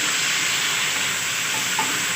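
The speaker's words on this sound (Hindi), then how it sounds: "टमाटर को अच्छी तरह फ्राई कर लेंगे।" Finely chopped tomatoes frying in a pan with ginger-garlic paste for homemade degi-style beef biryani, a steady, dense sizzle that holds at an even level throughout, close and loud with no voices.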